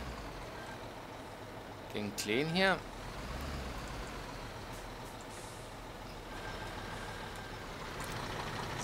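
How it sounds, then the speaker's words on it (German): A truck is parked in the construction game Bau-Simulator 2015, with a steady engine rumble throughout and a sharp air-brake hiss with a brief rising whine around the middle, while someone talks over it. "Ich stelle nur den LKW ab."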